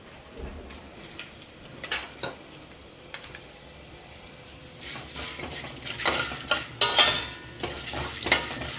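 Urad and chana dal frying in ghee for ghee upma, a steady close sizzle with scattered crackles and pops that thicken toward the end, punctuated by a few sharp utensil clinks and stirring scrapes.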